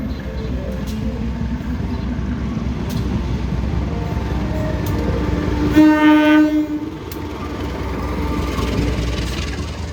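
The Bangunkarta passenger train rumbles past loudly as it arrives, its horn blaring once for about a second, with continuous rail noise and clatter around it.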